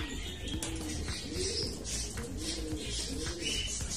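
Racing pigeons kept for derby flying coo softly and repeatedly in a low, rolling rhythm, with faint chirps and steady background noise around them.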